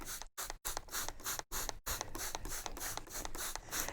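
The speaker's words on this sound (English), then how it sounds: "So I'm just going to spray all around like this." Water spritzing from a hand spray bottle over dry topsoil in a seed-starting pot, a rapid series of close, loud hissing squirts with brief pauses between pumps and no talking.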